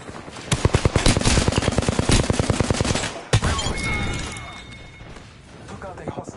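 Rapid automatic gunfire in the shooter game Apex Legends, a dense burst of close, loud shots lasting a few seconds, then a sharp crack and a quieter mix of game effects.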